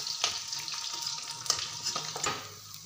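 Fish sizzling and crackling in hot oil in a pan, a steady close frying hiss with a few louder spits and pops throughout, no voices.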